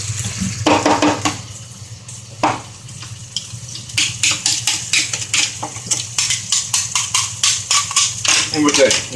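Eggs fry in a pan for pad thai, a steady sizzle under repeated scraping and stirring of a utensil against the pan, with a low hum in the background and a few louder clatters.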